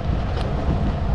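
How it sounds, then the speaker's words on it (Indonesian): Strong wind at a fishing spot beside a dam, a loud broadband rush battering the microphone steadily throughout the short moment, with no talk. "Anginnya kencang banget"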